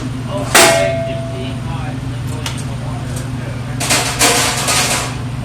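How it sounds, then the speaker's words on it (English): The front plate is taken off a Duke commercial broiler, giving a sharp metallic clang, then lighter scraping and rattling metal clanks over a steady mechanical hum. "And then after you take off the front plate"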